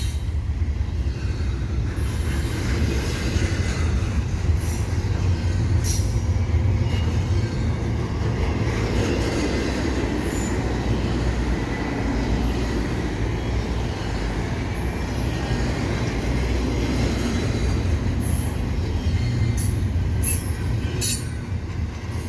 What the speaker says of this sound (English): Via train headed east, headed west rather